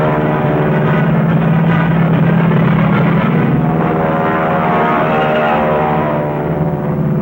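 Propeller-driven P-38 fighter planes diving to attack Zeros give a loud, sustained engine drone that holds throughout without a break.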